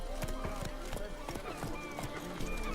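Hooves of the horse Roach clip-clop in a steady rhythm through The Witcher 3 video game, with an occasional whinny, under a continuous game music and ambience bed throughout the short stretch.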